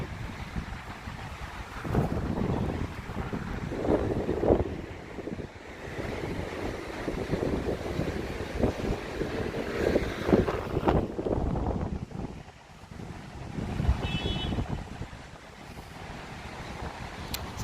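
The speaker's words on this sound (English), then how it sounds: "it's a very windy day, but still people are out" Strong wind gusting by the sea in Sliema, Malta, buffeting the microphone in loud, uneven rushes with brief lulls, over a dull roar of surf.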